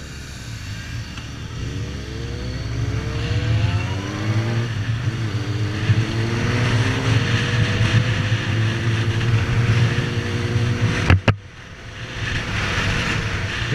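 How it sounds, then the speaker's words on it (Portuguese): Three motorcycles, a Yamaha Virago 250 cruiser and Suzuki GSX-R 750 and 1000 SRAD sport bikes, ride on a road in Perth, with engines droning and revving through rising gear changes, steady wind rush, and a sharp knock near the end. "estamos hoje em três motos, uma Virago 250, uma Red 750 e a minha Red 1000."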